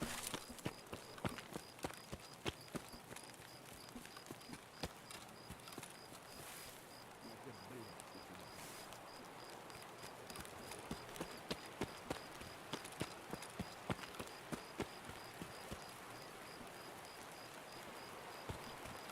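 Rain in a first-person shooter game falls as a faint, crunchy crackle, with sharp irregular clicks scattered through a low, steady hiss over a long stretch.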